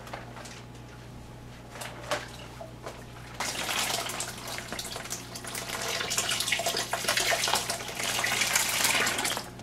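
Tap water runs into a jug, filling it toward the 6-gallon mark for home wine making; a quiet trickle first, then a stronger steady gush of pouring water for the last several seconds.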